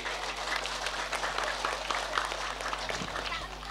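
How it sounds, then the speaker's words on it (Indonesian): An audience at a Balinese Hindu religious sermon applauds, a dense, continuous patter of many hands clapping close by for a few seconds before it starts to thin out. "Tepuk tangan dulu niki."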